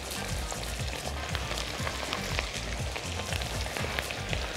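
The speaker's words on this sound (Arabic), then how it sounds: "لازم الزيت يكون سخن جدا واصل لاعلى درجه حراره عشان تتحمر على طول" Kofta fry in very hot oil with a loud, dense, unbroken sizzle and crackle, heard up close throughout and with no voice over it.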